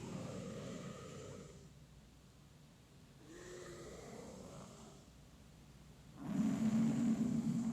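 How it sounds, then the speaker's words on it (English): An AI-generated roaring sound effect made with Kling AI, a low rumbling growl that swells in three long bursts separated by quieter gaps, the last one loudest, with no talking. "These are all roaring sounds."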